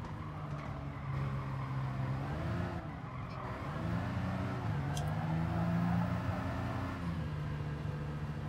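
A small, modest car's engine in Gran Turismo Sport on the Nürburgring drones steadily at a calm, even pitch, rising and falling gently through shifts, with faint tire noise and no talking.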